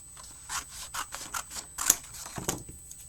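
Scissors snip through paper being cut out for a handmade mirror Mother's Day card, a series of close, quiet, irregular crisp cuts and rustles with no talking.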